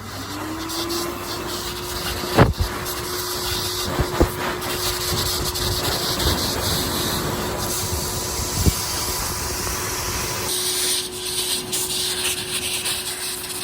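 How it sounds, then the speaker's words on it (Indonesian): Hair dryer blowing steadily while a cat is dried after a bath at home, a continuous close airy whoosh with a steady motor whine, a few brief knocks and a shift in tone near the end. "Waktunya kita hair dryer."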